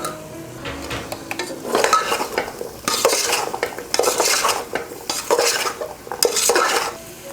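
Vegetables (potato, carrot, beans and drumstick) being stirred through a masala in a pan, with scraping spoon strokes and clinks over a soft sizzle, repeated in uneven bursts close by.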